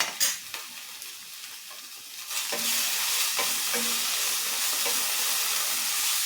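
Crushed green chili, garlic and ginger with garam masala sautéed in a pan: a few spatula clinks over a quiet start, then a loud steady sizzle with occasional stirring scrapes, close and without speech.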